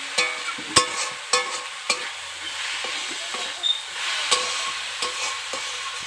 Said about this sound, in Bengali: এখন ভালো করে নাড়াচাড়া করে এগুলোকে খুব ভালো করে মিশিয়ে নেব।